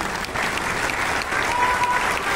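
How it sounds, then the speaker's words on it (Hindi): Audience applause at a literary council session attended by a former president, steady sustained clapping from a crowd, fairly loud and continuous throughout. "ताली भी बजा सकते हैं।"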